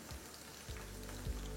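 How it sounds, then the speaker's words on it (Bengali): Chicken kofta pieces shallow-fry in a little oil as they are turned to cook the other side, giving a soft, steady sizzle with a few brief louder bursts. "পাল্টে নিয়ে অপর দিকটাও ভালো করে ভেজে নিন"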